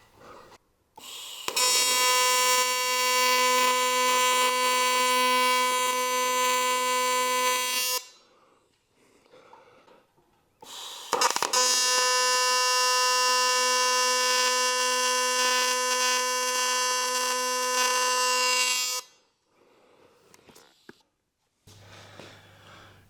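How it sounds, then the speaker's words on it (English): A TIG welder on an ArcCaptain TIG 200 tacks 3/16 steel, giving two long steady high-frequency arc buzzes of about six and eight seconds, loud and close, separated by a short quiet gap. "I'm just gonna tack these first and then pull the clamp off."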